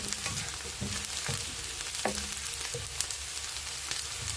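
Ingredients for a sardine curry sauté in a pan with a steady, close sizzle, punctuated by occasional light scrapes and taps of a stirring utensil, no speech.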